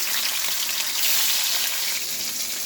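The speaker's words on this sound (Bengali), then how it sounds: "মাছগুলো এবার আমি ভেজে নেব।" Fish fry in hot oil in a wok, giving a loud, steady, close hiss and crackle that holds even throughout, with no talk.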